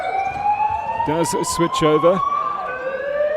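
A fire alarm sounds in a sports hall during a New Zealand secondary school volleyball championship: a loud, steady, slowly rising electronic tone, with someone talking briefly over it.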